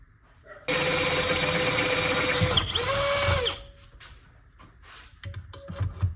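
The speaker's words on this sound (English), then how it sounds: "So now I'm going to try to drill it out on both pieces right here." A drill whines steadily for about three seconds as it bites into a metal bracket, its pitch dipping briefly mid-cut, then spins down and goes quiet.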